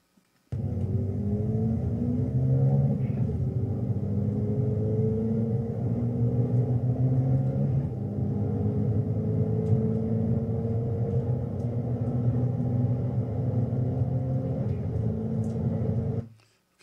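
A car engine revs steadily upward through several gear shifts, each pitch climb dropping back briefly before rising again, a continuous droning rumble heard alone for about sixteen seconds.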